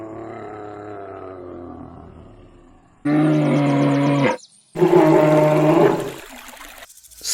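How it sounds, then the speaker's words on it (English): A bear roaring in the wild, a few deep, drawn-out growling roars that come close and loud in separate bursts with short gaps between them. "Bear."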